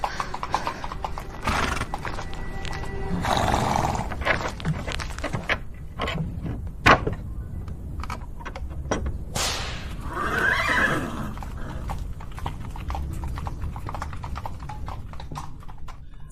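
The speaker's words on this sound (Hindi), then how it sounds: "हाँ, एक तांगा आता दिखाई दे रहा है।" A horse-drawn tonga carriage comes closer with steady hooves clip-clopping on the road. A horse whinnies, and there are sharp whip-like cracks over a busy outdoor background.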